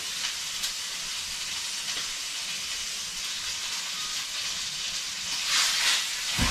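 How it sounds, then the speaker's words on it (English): A tomahawk steak sears in a hot pan as its fat renders, giving a steady, close broadband sizzle that holds evenly throughout and swells slightly near the end, with no voices. "That's a good sear there. Again, at this point, we're just rendering the fat."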